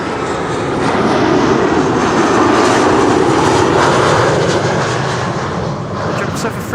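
A United Boeing 777-200 jet landing on runway 06 at Amsterdam Schiphol, a loud, steady engine roar that swells and holds as the airliner passes close by, with no voices over it.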